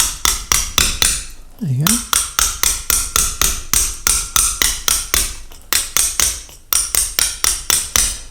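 A mallet strikes a ragging-out chisel during stone carving in a fast, steady run of loud, sharp taps with brief pauses. A short spoken phrase comes partway through.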